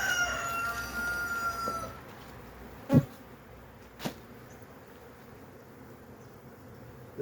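Honeybees buzz around an open, expanding beehive in a low, continuous drone, with a rooster crowing at the start and a couple of sharp knocks.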